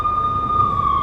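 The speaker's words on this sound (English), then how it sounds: "I could hear the sirens. Their wail was a crescendo." Police sirens sound in Max Payne on PS2 with a steady high electronic tone, loud and close, over a low rumbling background.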